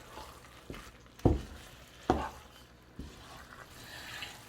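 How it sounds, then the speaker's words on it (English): Palava sauce with egusi melon seed, spinach and scrambled eggs is stirred in a pot, a quiet simmering hiss broken by a few distinct spoon knocks and scrapes against the pan. "So now stir everything together"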